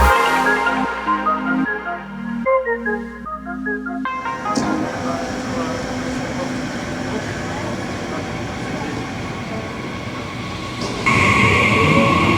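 Overnight sleeper train out of Kristiansand bound for Oslo, a broad rolling rumble and rattle of carriages rising after a few seconds of tonal music and swelling louder near the end.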